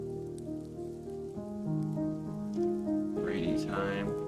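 Rain falling in the video game Wanderstop: a steady, soft patter under gentle sustained tonal music, with a brief brighter swell of spray near the end.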